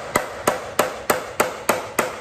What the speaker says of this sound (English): This is a regular flat hammer.